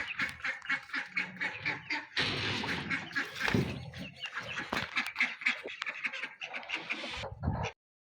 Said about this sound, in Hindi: और ये देखें जी मेरी मुर्गी हैं